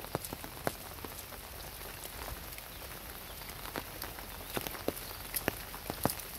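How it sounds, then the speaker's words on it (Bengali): Steady rain pouring down during a rainy-season fishing outing, a constant wash of patter with scattered louder drops landing close by, going on without pause. "সারা দিন ভর বৃষ্টি হইতেছে, মানে বিরতিহীন"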